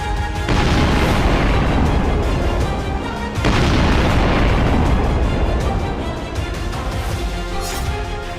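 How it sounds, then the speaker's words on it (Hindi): Two massive explosions at sea roar one after another, each a sudden loud blast followed by a long sustained rumble that slowly fades. "ये महज धमाका नहीं है"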